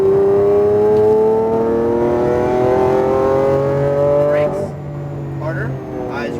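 A Lamborghini Aventador accelerates out of a corner on a racing track, its engine note climbing steadily in pitch and loud before dropping sharply at a shift, with a voice over the engine.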